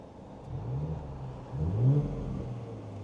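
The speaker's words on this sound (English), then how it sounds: "if I give it a little rev." A little rev from an Audi S5 left in comfort mode: a low engine rumble rises in two short, close swells, the second peaking louder, then settles back to a steady idle.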